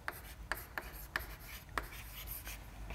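Chalk or marker strokes on a lecture board, a series of short scratchy taps and rubs spaced irregularly, close and fairly quiet with no talking.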